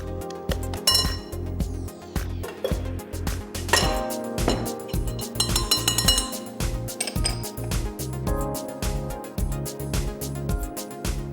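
Chocolate chip and walnut cookie dough is worked in a bowl, giving steady clinks and knocks of a utensil against the bowl in an uneven rhythm throughout, fairly close with no talking.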